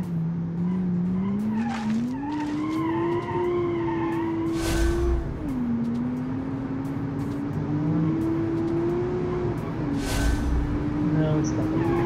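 A sport hatchback in a racing game skids through a handbrake turn, a sustained tire squeal that rises and falls over a steady engine drone, with a voice talking over it.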